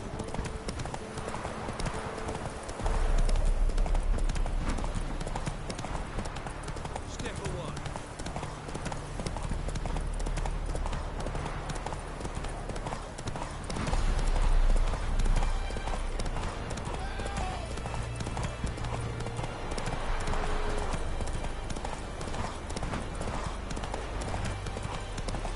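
Roach, a horse in The Witcher 3: Wild Hunt, clip-clops at a steady walking rhythm for the whole stretch, hooves fairly close and even, with game music and battle ambience underneath.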